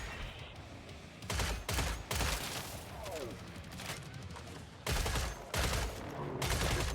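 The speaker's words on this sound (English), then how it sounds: "A nice, good sounding assault rifle." A Scar assault rifle fires in Killing Floor 3 in several loud bursts of rapid automatic shots, broken by short pauses, over background game noise.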